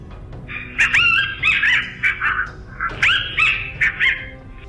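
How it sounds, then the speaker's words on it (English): Coyote pup distress call played from an electronic predator caller during a February hunt, a series of high yelping whines and squeals in two bursts, loud and close. "I was using a coyote distress call there, pup distress call."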